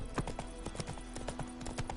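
Horse hooves clip-clop at a steady trot in The Witcher 3, a close, rhythmic series of hoofbeats over a low background hum.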